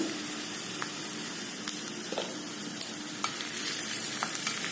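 Steady close sizzling of a tadka of spices and asafoetida frying in hot oil, with a few faint clicks and scrapes over the continuous crackle.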